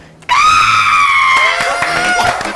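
A voice imitates an electric kettle boiling water with a sustained high, shrill whistling squeal that wavers and fades, loud and close, with a brief reaction from others at the end.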